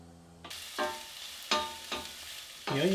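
Onions and garlic frying in a pan for a spaghetti meat sauce, sizzling steadily after a sudden start, with a few louder scraping stirs breaking through the hiss.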